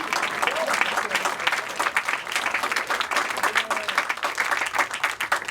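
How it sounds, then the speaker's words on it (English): An audience at a groundbreaking ceremony for the One Nine Vine development claps steadily, with dense, close applause and a few voices mixed in. "I'm gonna keep going so y'all can keep clapping."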